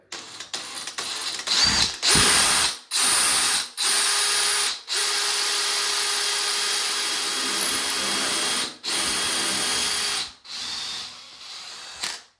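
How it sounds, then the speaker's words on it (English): A power drill bores through ceramic wall tile in short bursts of high, whining grinding. The bursts are separated by brief pauses, followed by one long steady run and then a few shorter ones, all close and fairly loud. "So it went through that tile in seconds. It just shows you how sharp those drill bits are"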